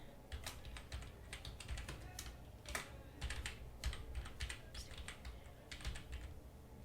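Rapid computer keyboard typing as a title is entered while building a WordPress job-alert site menu, with clustered keystroke bursts and brief pauses, close and clear with no talking.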